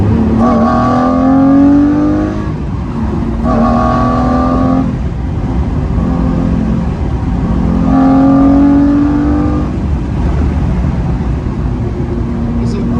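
A Lamborghini Murcielago with a six-speed gated manual gearbox roars from inside the cabin while driving, its loud engine note rising through the gears in repeated surges with brief drops between shifts, filling the car close up.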